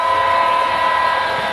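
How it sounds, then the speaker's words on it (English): Model trains running on a figure-8 layout give off a loud, steady electric hum and a sustained whistle-like tone, with a faint rolling rattle beneath. "We've got 4 trains running at the moment."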